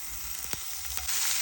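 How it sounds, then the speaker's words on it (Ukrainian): Shrimp fry in a pan with garlic, giving a steady close sizzle with a few sharp crackling pops spread across the short stretch. "Смажимо креветки по 3-4 хвилинки з кожної сторони."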